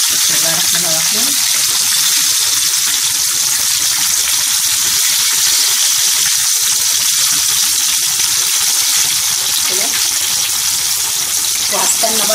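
Breaded chicken pieces fry in hot oil with a loud, dense, unbroken sizzle and crackle that holds steady for over twelve seconds.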